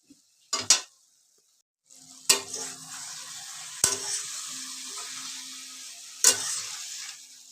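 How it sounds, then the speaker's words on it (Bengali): Spices fry in a pan for a home-cooked meal of dal, rice and fried aubergine. A steady oily sizzle runs throughout, broken by a few sharp stirring clacks of a spoon against the pan. "এটাই মশলাগুলো ভাজা হচ্ছে।"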